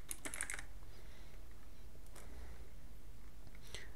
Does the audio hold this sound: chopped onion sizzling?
no